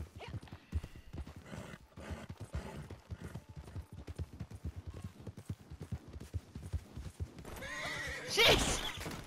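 A horse trots with steady clip-clopping hooves in the Red Dead Redemption 2 video game, faint and rhythmic under quiet talk, ending in a loud, close whinny near the end.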